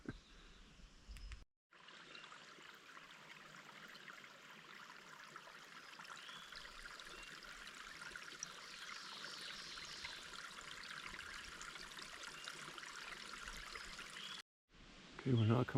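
A creek on the Mid State Trail in a Pennsylvania state forest flows with a steady, full broadband rush of water, continuous and fairly close, with brief near-silent breaks at the start and end.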